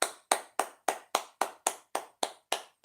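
Hands clap in a steady, evenly spaced rhythm, about ten sharp claps in three seconds, crisp and close with silence between each, during a casual online news broadcast.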